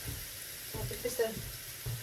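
Kedgeree with fish, milk and onion sizzles softly in a small, slightly sticky pan while a spoon scrapes and stirs it in a few short strokes, quiet and close.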